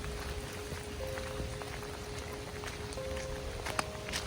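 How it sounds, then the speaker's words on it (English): Light rain pattering steadily on surfaces outdoors, with a low hum and a faint tone in the background; no one speaks. "You guys hear the rain?"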